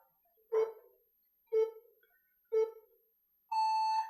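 Quiz round timer sounding four evenly spaced electronic beeps about a second apart, the last one longer and higher, clear and alone against silence.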